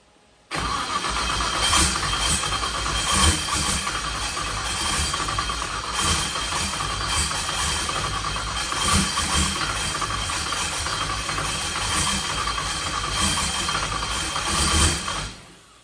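A racing turbo engine cranks and fires up abruptly, then runs loud and close with a rough, buzzing drone and small throttle swells before cutting off at the end.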